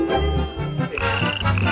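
A toad croaks loudly and close, in a run of deep guttural, grunting calls that repeat in quick succession with no other sound.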